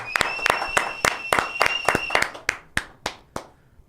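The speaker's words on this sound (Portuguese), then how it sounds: "Palmas pra Henrique e Juliano, galera." Crowd clapping for the duo Henrique e Juliano, a fairly close run of sharp, distinct claps with a tonal sound behind them, thinning to a few slower, separate claps before fading out.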